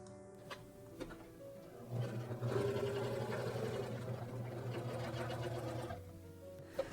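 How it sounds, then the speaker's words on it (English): A sewing machine stitches twill tape down as a waist stay on an 18th-century style corset, a steady close whirring run for several seconds with quieter pauses at the start and end. "I'm stitching it down in a few places by machine"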